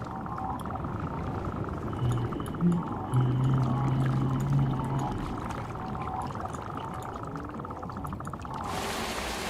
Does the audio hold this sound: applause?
no